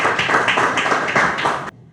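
A conference hall audience applauds at a launch event, a dense, steady wash of many hands clapping for under two seconds before it cuts off abruptly.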